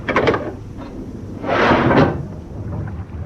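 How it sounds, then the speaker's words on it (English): A heavy watertight door aboard a ship is worked open in a wartime radio drama, a short burst of metallic creak and clunk followed by a rush of noise, close and alone. "Can we risk opening the watertight door?"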